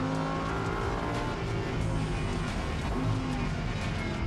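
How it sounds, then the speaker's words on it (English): Race car under hard turbo braking at the limit with ABS working, a loud close engine drone and tire roar running continuously with wavering tonal pulses as the car slows. "A little bit of ABS under turbo braking there."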